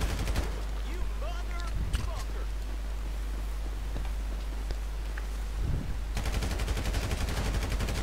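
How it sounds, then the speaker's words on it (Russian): Gunshots in the video game Grand Theft Auto V: a few sharp distant shots amid a constant noisy game soundscape. "А, точно, только что выстрел был оттуда."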